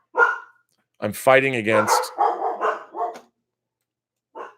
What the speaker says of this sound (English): I've never heard them both bark like this.